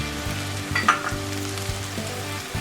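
Dried kasuri methi leaves hitting hot oil for a tadka in a restaurant-style malai kofta, giving a steady close sizzle with a brief brighter crackle early on, then a settled frying hiss.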